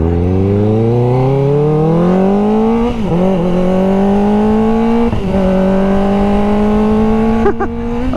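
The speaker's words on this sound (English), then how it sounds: "one more nice little pull with that baffle out" Exhaust of a vehicle fitted with a Coffman's exhaust, baffle removed, pulling hard under acceleration: a loud, raspy engine note climbing steadily in pitch, dipping briefly at two gear shifts before rising again, heard close and alone.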